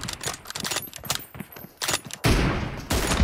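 Gunfire in a team deathmatch shooter: quick bursts of close rapid shots and clicks give way to a heavy sustained roar of firing in the last second.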